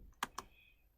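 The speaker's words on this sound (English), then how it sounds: "So I'm typing ping" Typing on a computer keyboard: three or four sharp, quiet key clicks in a second, spaced unevenly, close and alone with no talk.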